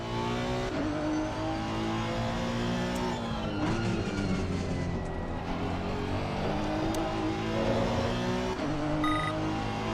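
A race car engine revs hard in a racing simulator game, pitch climbing and dropping through gear changes with continuous loud engine drone for the whole stretch.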